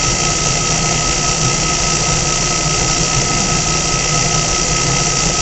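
An electric motor spins steadily at about 1800 RPM, giving a loud, constant mechanical whir with a sustained high whine and no breaks or variation.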